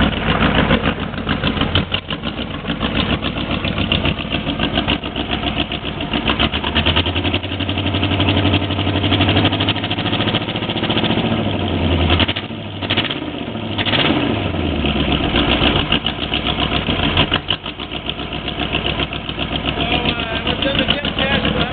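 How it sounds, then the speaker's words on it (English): A steady engine drones throughout, rumbling low and continuous with a few brief surges in pitch, while indistinct talk sits underneath. "You might want to listen to the engine at the back of the boat."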